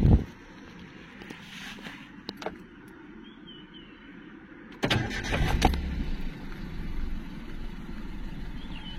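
A Maruti Suzuki Alto 800 engine cranks and catches on the first half-turn, then settles into a steady idle after a quiet stretch with a few small clicks.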